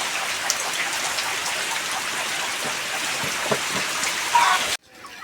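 Steady rain falls around a village house, a close, even patter of drops with scattered splashes, continuous and fairly loud before cutting off abruptly near the end.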